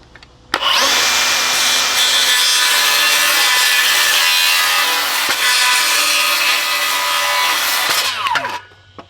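Bosch Profactor 18V cordless rear-handle circular saw cutting through wood, a steady loud whine of blade in timber running continuously for about eight seconds after the start, then spinning down.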